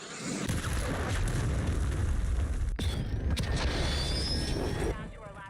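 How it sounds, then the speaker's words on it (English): Cruise missile strike in the Call of Duty Warzone video game, a loud sustained rumbling blast with a sharp crack midway and whooshing debris, dense and close, fading near the end. "Hostiles launched a cruise missile."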